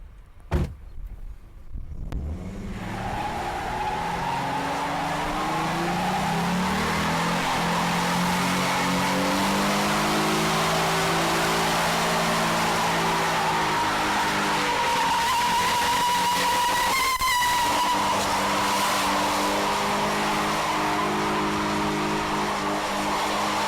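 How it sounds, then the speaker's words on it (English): A 2011 Ford Mustang V6 performs a burnout, with its engine roaring steadily and its tires squealing loudly and continuously for about twenty seconds after a brief quiet start. "I'm going to smoke some tires."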